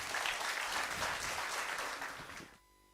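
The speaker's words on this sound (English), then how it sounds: "Please clap for him. Another round of applause, please." An audience at TEDx Nile University of Nigeria applauds in a dense burst of clapping that fades out after about two and a half seconds into near silence.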